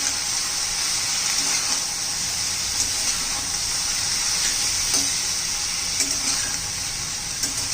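Capsicum with red chili powder and salt cooking in a pan: a loud, steady hiss of frying fills the whole stretch, with only faint occasional ticks of stirring beneath it.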